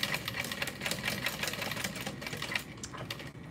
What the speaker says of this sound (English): I'm gonna sew down that one more time.